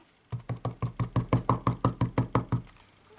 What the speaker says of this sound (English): I think I'm banging too much